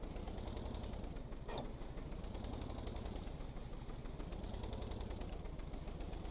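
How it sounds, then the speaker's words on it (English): A boat engine in Stormworks idles steadily while straining against a propeller spinning in reverse, a continuous low rumbling drone with a brief faint mechanical catch partway through. "You'll hear it do some starting because it's trying to fight that prop going reverse."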